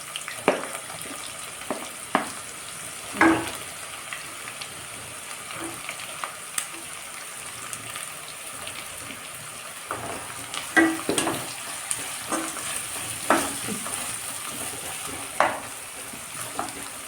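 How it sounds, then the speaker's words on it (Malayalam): Chopped onions frying and being stirred in a pan at home, a steady close sizzle broken by irregular scraping stirs and clinks over about seventeen seconds, with no talking. "അരിഞ്ഞ് വെച്ച സവാളയും കൂടെ തട്ടി കൊടുക്കാം"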